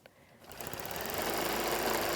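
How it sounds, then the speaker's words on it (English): A sewing machine starts up and quickly reaches a fast, steady whirring stitch while quilting, close and fairly loud. "I'm going to stitch using my ruler, stitch out to that corner, and then up to the middle of this one"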